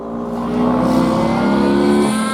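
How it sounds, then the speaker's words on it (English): Vintage racing karts roar past at speed during a demonstration race, a loud engine whine rising then sustaining as they pass close by. "Great stuff from the vintage karts."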